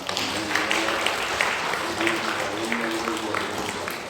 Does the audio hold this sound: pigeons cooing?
no